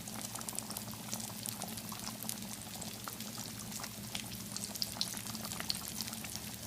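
Potatoes fry in hot grease in a pan, giving a steady, close crackle and sizzle with scattered pops and spits throughout.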